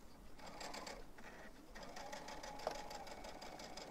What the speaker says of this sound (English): I'm going to stitch over where I stitched before, just a couple little stitches, and then I'll do a lock stitch.